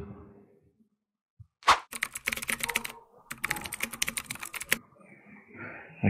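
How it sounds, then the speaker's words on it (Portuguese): Fingers tap a computer keyboard up close in two quick bursts of rapid clicking keystrokes, with a sharp single key press before them and quiet pauses between. "apertando a tecla Ctrl no seu teclado"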